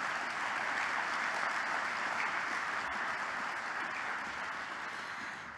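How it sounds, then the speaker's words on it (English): Steady applause from an audience at a grand opening celebration for the Specter Center in Philadelphia, a dense continuous clapping that holds strong throughout and tapers slightly toward the end, with no talking over it. "So let's give them a round of applause."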